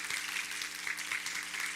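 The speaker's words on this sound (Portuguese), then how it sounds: "Uma salva de palmas para o nosso pastor." Applause for a pastor at an event, a soft, dense patter of many hands clapping that holds steady and rather faint throughout.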